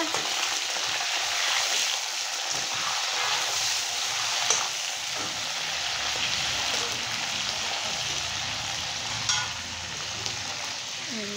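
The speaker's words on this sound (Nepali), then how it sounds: "यो चाहिँ मेरो सुपको लागि हड्डी फ्राई हुँदैछ" Bones frying in a pan for soup, giving a steady, dense, hissing sizzle with crackles throughout and an occasional clatter from stirring, close and even in level.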